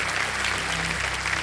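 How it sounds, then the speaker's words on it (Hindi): A quick burst of studio audience applause on a TV quiz show, a brief, even patter of many hands clapping. "ताली बजिए"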